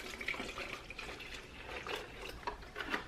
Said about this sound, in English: We're going to go ahead and take some of our spring water